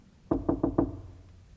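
Door knocking in a German radio play: four firm, evenly spaced knocks close up, followed by quiet.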